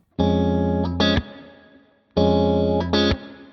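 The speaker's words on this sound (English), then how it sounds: "you can actually just slam your hand down on the strings" Two distorted guitar chords ring out, each followed by a sharp percussive hand slap on the strings that chops the sound like a snare pop, repeated twice.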